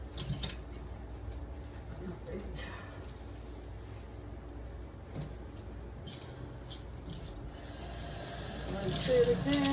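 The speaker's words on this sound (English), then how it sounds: "I'm going to take my cloth and I'm going to wipe down my sink." A kitchen sink being wiped down with a cloth and rinsed under running water from the tap, giving a steady low wash of water and rubbing with small clinks near the end.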